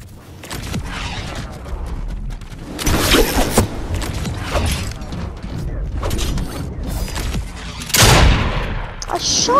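Gunfire in a video game, bursts of sharp shots and mechanical clatter arriving in clusters over a busy, noisy background, with a loud burst near the end.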